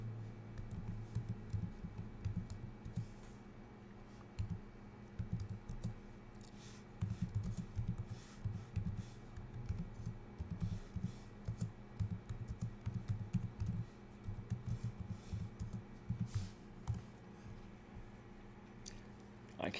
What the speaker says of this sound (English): Terrible keyboard.